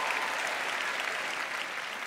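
Comedy club audience applauding steadily at a comedy festival, a dense continuous patter of clapping that holds level for the whole stretch before easing slightly at the end.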